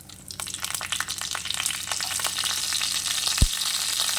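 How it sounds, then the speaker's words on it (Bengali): Nigella seeds and slit green chillies hit hot oil in a pan, raising a loud, crackling sizzle that keeps building, with one sharp knock partway through. "তেলটা গরম হয়ে গেলে দিয়ে দেব কালো জিরা এক চামচ আর দেব চেরা কাঁচা লঙ্কা"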